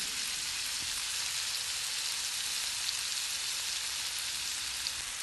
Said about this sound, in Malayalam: കുറച്ച് ചിക്കൻ എടുത്ത് ചെറിയ പീസാക്കി മുളക്, മഞ്ഞൾ, ഉപ്പ്, ഇഞ്ചി, വെളുത്തുള്ളി പേസ്റ്റൊക്കെ തേച്ച് പിടിപ്പിച്ച് ഫ്രൈ ചെയ്തെടുക്കാം.